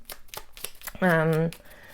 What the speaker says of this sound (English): you shuffle the cards